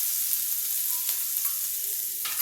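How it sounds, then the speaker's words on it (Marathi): Green chilli paste with turmeric frying in a pan over low heat, a steady close hiss of sizzling with a couple of brief scraping stirs, no voices. "आता यामध्ये आपण हे जे वाटण केलं होतं हिरवी मिरचीचं ते टाकूया"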